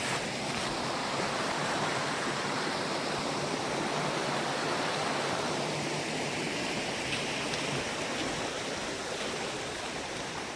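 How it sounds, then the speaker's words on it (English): Creek water flows continuously along a trail in the Great Smoky Mountains, a close, steady rushing and babbling with no pauses. "Here's a creek."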